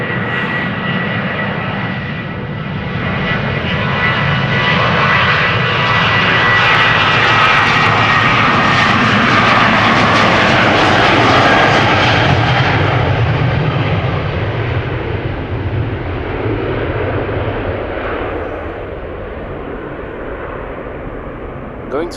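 KLM Boeing 737-800 departing Amsterdam Schiphol for Helsinki: a loud jet roar swells steadily to a peak near the middle, then fades as the aircraft pulls away, with a faint voice underneath at times.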